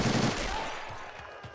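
Loud machine gun fire bursts out at the start in the Normandy '44 game, then fades into a dense, rumbling wash of more distant gunfire and battle noise.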